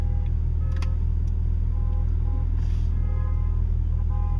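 Scattered electronic beeps from vehicles over a steady low engine rumble, several short tones sounding at different moments through the clip.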